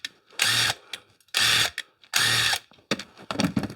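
A cordless rotary tool spins a wire wheel thread cleaner in four short, sharp whirring bursts separated by brief pauses, up close and with no talk.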